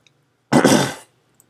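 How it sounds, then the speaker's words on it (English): A single harsh cough blends into rough throat clearing, one loud, close burst lasting about half a second between stretches of near silence. "Sorry, I have a bit of a cough, I guess"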